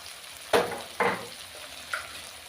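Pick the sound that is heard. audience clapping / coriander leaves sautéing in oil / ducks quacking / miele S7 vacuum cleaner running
coriander leaves sautéing in oil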